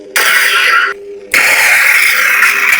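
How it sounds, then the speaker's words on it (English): A Neopixel Proffie lightsaber plays a loud blaster-bolt deflect effect, a bright crackling burst that cuts out briefly and then resumes as a sustained electric buzz. "Blaster bolt deflex."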